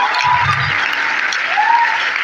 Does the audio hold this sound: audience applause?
yes